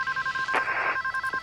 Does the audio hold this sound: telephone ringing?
yes